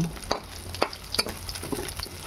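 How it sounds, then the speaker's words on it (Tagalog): Chicken being sautéed in a pan for sotanghon soup gives sparse, light sizzling broken by scattered clicks and clatters of the utensil, fairly quiet and with no voices. "Ako sa gigisa ang chicken."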